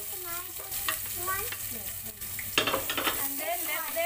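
Finely chopped green chili and onion fry in a pan for upma, giving a steady sizzle with a few stirring scrapes, close and fairly loud, with no talking.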